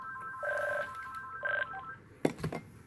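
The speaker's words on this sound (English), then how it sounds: "Sorry for the phone ringing." A telephone rings indoors in two tonal bursts, followed by a few sharp clicks and clatter, moderately loud with no talking.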